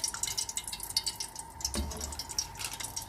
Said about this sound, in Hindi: इसमें हम डालेंगे 3-4 कप ऑयल